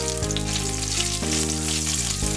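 Small and large cardamom pods with cloves sizzle as they fry in hot oil for a katla fish kalia, with a steady, close crackling hiss over a low tonal hum.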